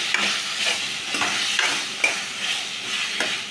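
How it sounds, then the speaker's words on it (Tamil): Brinjal masala with turmeric frying in a pan at home, stirred with a spoon: steady close sizzle with a scrape roughly every half second, no voices. "இப்போ நல்லா கிண்டிட்டுருக்கோம்."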